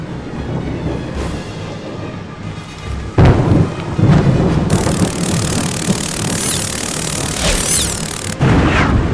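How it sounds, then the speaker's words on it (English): Thunderstorm in the Harry Potter and the Prisoner of Azkaban video game, with heavy rain and rolling, rumbling thunder building to loud booms, dense and continuous. "the following morning was stormy and foul"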